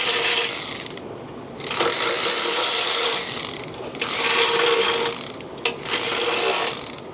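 Hand ratchet tightening bolts on the differential housing of a Ford Explorer ST, heard close and loud as three long bursts of rapid clicking separated by brief pauses, with no voices.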